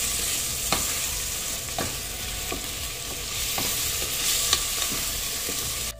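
Tomatoes fry in a pot of dal khichdi with a loud, steady sizzle, while a spoon stirs through them in regular scraping strokes about once a second.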